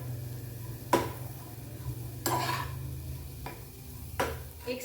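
A spoon stirs green pea halwa with ghee in a pan, giving a few scraping strokes spaced a second or more apart over a steady low hum, with a soft sizzle underneath and no talk.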